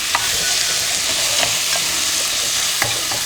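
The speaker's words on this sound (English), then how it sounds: "Okay, I'm going to blend the meat with" Extra lean ground beef and onion fry in a pan with a steady, dense sizzle, and a few light scrapes of stirring stand out over it. No one speaks.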